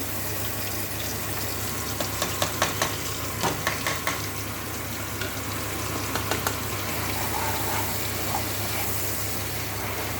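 Ginger-garlic paste, turmeric and chilli powder fry in oil in a pan already holding fried onion and tomato, with a steady close hiss and scattered small pops and spatters throughout.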